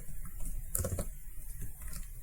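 Computer keyboard typing a folder name: soft, quiet key clicks in a short irregular burst with one louder cluster of taps, no talking.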